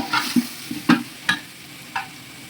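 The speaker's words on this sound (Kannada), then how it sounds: "ಸ್ವಲ್ಪ ಟೊಮೆಟೊ ಹಣ್ಣೆಲ್ಲ ಸಾಫ್ಟ್ ಆಗೋವರೆಗೂ ಎಲ್ಲ ಫ್ರೈ ಮಾಡ್ಕೊತೈತೆ" Spatula stirring tomatoes and field beans frying in a pan for chicken biryani, tomatoes softening: a handful of distinct scraping strokes roughly every half second over a low sizzle, close and alone without any voices.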